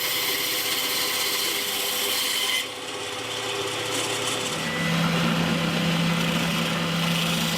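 A power saw cuts through a piece of olive wood for a handmade guitar build, giving a steady, close, grinding rasp that shifts in pitch partway through as the blade bites deeper.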